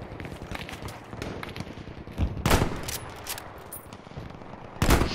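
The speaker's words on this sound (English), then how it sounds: "I'm getting shot from everywhere." Gunfire in the video game Battlefield 5 crackles through a moderate background, with scattered distant shots and two louder sharp bursts standing out.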